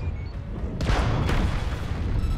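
Weapon fire slams into a mech during a MechWarrior Online battle: two heavy, close booms about half a second apart over a steady low rumble, with no talking.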